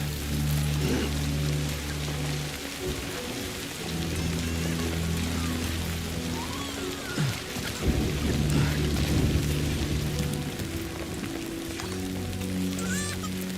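Rain falls steadily with rumbling thunder in the Death Stranding 2 video game, a continuous wash of downpour over low booming rolls that swell and fade throughout, with no talking.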